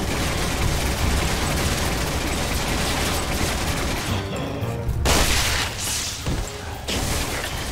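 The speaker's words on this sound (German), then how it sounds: "Junge, ich hab den mit dem Maschinengewehr jetzt." Machine gun firing in Resident Evil 6: sustained rattling volleys of automatic fire with mechanical clicks over a loud, dense combat mix, breaking into sharper separate bursts toward the end.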